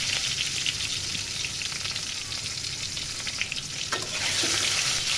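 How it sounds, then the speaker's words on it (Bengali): Eggs frying in a pan, a loud, dense, steady crackling sizzle that swells slightly toward the end, with a soft stir or scrape near the four-second mark and no voices. "তো ডিমগুলোকে ভেজে নিচ্ছি।"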